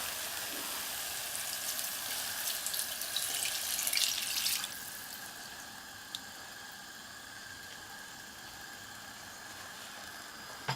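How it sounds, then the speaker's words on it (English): Stock poured into a pot of 1954-style beef curry, a steady hissing pour lasting a few seconds, then quieter simmering with an occasional faint clink. "This is the point you add your stock."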